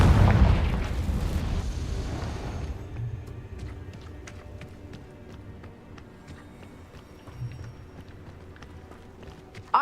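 A Confringo explosive spell in Hogwarts Legacy lands with a loud, broad blast at the start, then fades into quieter game ambience with light footsteps and scattered small clicks.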